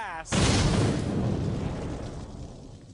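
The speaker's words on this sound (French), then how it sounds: "Il crée cette énorme explosion." A sudden loud blast booms in after a brief voice, then a long rumbling, crackling tail slowly fades out.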